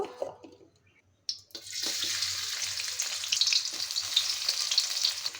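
Chopped onion hits hot oil in a wok after a quiet moment, setting off a sudden, steady sizzle that holds at moderate loudness.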